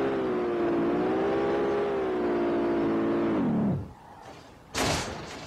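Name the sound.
Audi S4 Quattro engine in SLRR video game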